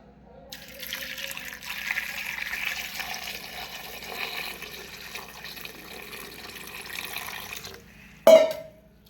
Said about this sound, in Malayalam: നമുക്ക് അതിലേക്ക് പാകത്തിന് വെള്ളം ഒഴിക്കാം.